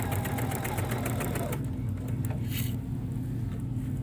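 A sewing machine stitches a quilted trivet with a steady, rapid mechanical chatter up close, the needle rhythm running continuously and shifting slightly in pace partway through.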